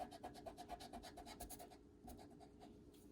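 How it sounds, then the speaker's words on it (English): Short rhythmic rubbing strokes as an eraser works across a chalk pastel line on paper, quick repeated scrubs that pause briefly and resume, quiet and close. "I'm going to erase this line."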